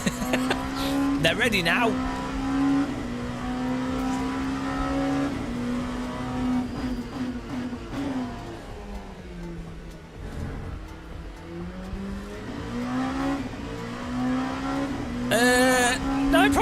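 Race car tyres squeal and engine drones steadily in Le Mans Ultimate while weaving to warm the tyres, a sustained tonal whine with pitch dips and bursts of revving, loud and close, with someone talking over it.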